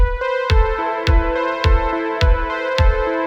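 Synthwave backing track without sidechain compression: steady kick drum thumps beneath a sustained synth pad that holds level between hits, a short loud instrumental passage.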